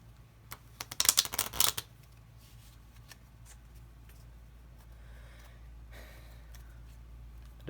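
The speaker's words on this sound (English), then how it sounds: "and now I will shuffle this deck." A deck of playing cards shuffled by hand: one quick riffle burst lasting about a second, crisp and close, followed by faint room hiss.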